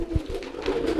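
Domestic pigeon cooing close by, a soft low coo with a short burst near the start over a steady murmur, no talk.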